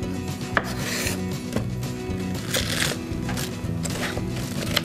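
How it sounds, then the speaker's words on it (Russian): A knife chops white cabbage into thin strips on a board, quick repeated cuts up close at a fairly quiet level. "Также нарезаем соломкой."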